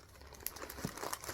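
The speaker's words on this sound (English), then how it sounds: "forgive the rustling here" Crinkly rustling of plastic packaging being handled up close, a short burst of crackles and crumples.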